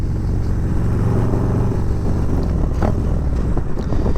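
Exhaust of a 2023 Harley-Davidson Road Glide ST motorcycle while riding, heard from inside a helmet as a steady, loud low rumble with engine hum throughout.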